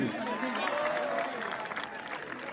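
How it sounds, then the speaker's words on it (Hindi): Audience applause and cheering from a crowd at the Concetto tech fest at IIT Dharwad: a steady, dense wash of clapping that fills the whole stretch, with voices mixed into the noise. "एक बार अपने कैंपस के लिए, अपने टीचर्स के लिए और सारी ऑर्गेनाइजिंग टीम के लिए जोरदार तालियां प्लीज"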